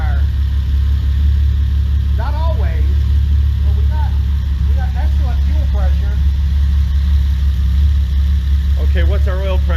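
Ferrari engine fed by three carburetors idles loud and steady in a shop, a deep continuous rumble under several bursts of nearby talk.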